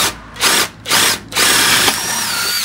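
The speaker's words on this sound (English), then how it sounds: "I decided to go ahead and drill a couple of holes in the bottom just in case water gets inside." Power drill boring holes into the bottom of a homemade solar address sign, loud and close, with two short whirring bursts and then a longer steady run, no talking.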